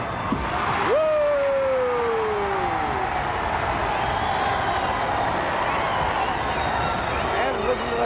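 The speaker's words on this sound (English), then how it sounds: "And listen to the crowd go mad." Wrestling arena crowd roaring wildly, a broad continuous cheer with whoops over it, while a commentator talks over the noise.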